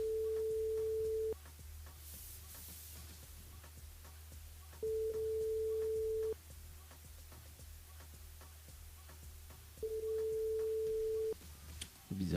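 Radio station phone switchboard line tone, a steady electronic beep sounding three times in long evenly spaced pulses over faint ticking and low hum, fairly quiet.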